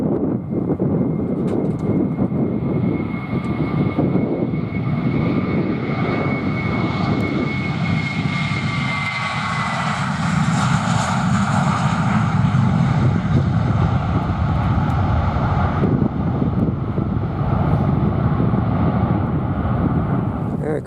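An airliner registered YRBMN, inbound from Ostrava, lands on a windy afternoon at London Luton, its engine roar loud, broad and sustained throughout, swelling slightly as it passes, with wind buffeting the microphone.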